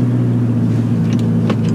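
A 1400 hp Nissan GT-R engine drones loud and close in a steady, deep rumble with a few faint higher blips on top, all within a short burst and no speech.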